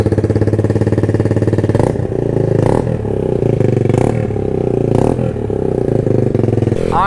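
A motorcycle with a new iStunt exhaust idles with a fast, loud, close throbbing beat, blipped in several sharp revs, ending with a rising whine.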